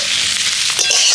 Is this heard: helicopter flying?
no